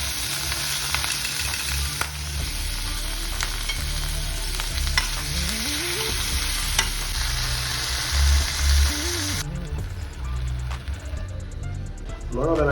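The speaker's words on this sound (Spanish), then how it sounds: "Echamos un poco de aceite en el sartén y echamos a freír un poquito de ajo." Garlic and vegetables frying in oil in a pan, a dense continuous sizzle with stirring scrapes and clatter, loud and close, dropping slightly near the end.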